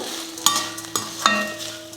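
Lentils roasting and being stirred in a pan for uppu urundai, with a steady dry sizzle and a few sharp scraping strokes of the spoon at regular intervals, close and clear with no talk.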